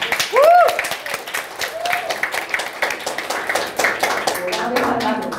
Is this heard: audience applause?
yes